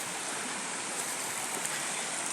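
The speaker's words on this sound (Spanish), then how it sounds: "la cascada del Salto" El Salto waterfall in Las Flores, Santa Rosa de Lima, makes a continuous broadband rush of falling water. It is steady and moderately loud, with no voices over it.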